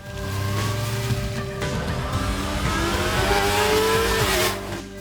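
A 2021 Honda CB650R motorcycle engine screams steadily and loudly at high revs, its pitch climbing and holding near the top before easing off at the end.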